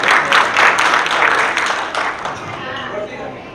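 Applause breaks out from the audience at a family get-together, a dense burst of clapping that starts loud and slowly tapers off over a few seconds.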